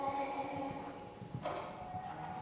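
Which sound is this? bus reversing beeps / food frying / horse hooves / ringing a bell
horse hooves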